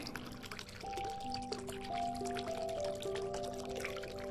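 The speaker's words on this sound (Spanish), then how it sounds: "Concéntrate en el sonido del agua." Water pours and trickles steadily throughout, with sustained soft musical tones layered over it for a relaxing guided-meditation setting.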